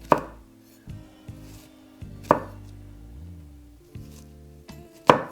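Knife slices through an onion on a cutting board in a slow, evenly spaced series of about six crisp chopping taps, close and clear against a quiet kitchen background.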